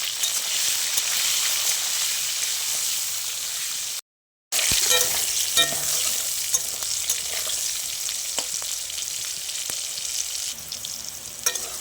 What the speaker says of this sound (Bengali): পটল দিয়ে ভালো করে ভেজে নেব